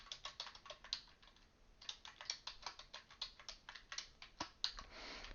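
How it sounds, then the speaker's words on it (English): Rapid typing on a computer keyboard while entering a password at a Linux terminal, a steady run of close, crisp key clicks with brief pauses, no talking. "I don't know if I typed my password correctly"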